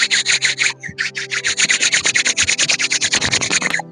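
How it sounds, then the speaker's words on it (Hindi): Palms are rubbed briskly together during a beginners' morning yoga class, making a fast, even train of close, loud swishing strokes over a faint steady tone, then stopping abruptly. "दोनों हाथों को रगड़ेंगे"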